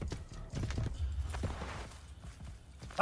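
Horse hooves clip-clopping in the game Assassin's Creed Brotherhood, a quick run of close hoofbeats that thins out, with a sharp louder burst at the very end.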